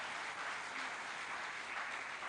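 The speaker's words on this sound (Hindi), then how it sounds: "एक जोरदार तालियों की गड़गड़ाहट" Audience applause at a Tamil Nadu convention, a steady, dense wash of many hands clapping that holds evenly for a couple of seconds, moderately distant with no talk over it.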